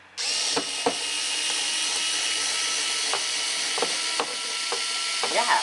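A Mi cordless screwdriver whirs steadily for several seconds with a few clicks and knocks, then slows as the screw seats.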